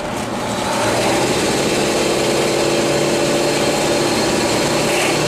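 A pickup truck carrying a load of cement for a patio pulls away and keeps gaining speed, its engine note rising into a steady drone over road rumble, with no voices.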